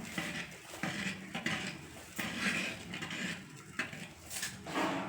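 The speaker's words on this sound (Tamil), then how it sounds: "இப்போ வதக்கினது எல்லாமே கொட்டிடலாம்." Sautéed onions being poured into a cooking pan, with a series of metallic clinks and scrapes of utensils against the pan over soft rustling, fairly quiet and close.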